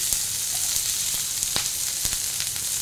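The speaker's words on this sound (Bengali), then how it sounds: "ফার্স্ট আমি রসুনটা দিয়ে দিলাম, সাথে সাথে আমি বিনস, আলু আর গাজরটাও দিয়ে দিচ্ছি।" Garlic, beans, potato and carrot frying in a pan of oil give a continuous dense sizzle with small crackles and a few stirring knocks, close and steady, no talk.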